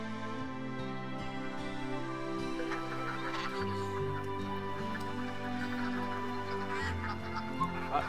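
A crowd of ducks and other fowl at a duck pen honk and cluck together in a dense, continuous chorus, moderately loud throughout.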